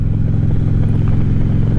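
A Harley-Davidson Street motorcycle riding, its engine a loud, steady low rumble with a throbbing beat, heard up close from the rider's helmet.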